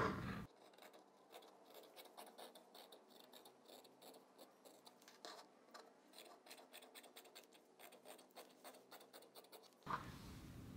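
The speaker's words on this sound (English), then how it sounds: "Now cut the fabric." Scissors snip through fabric while cutting out a petal or tulip sleeve pattern for sewing, giving a steady run of quiet, close, crisp clicks and slicing strokes with no talking.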